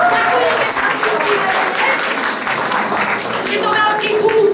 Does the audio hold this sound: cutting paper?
no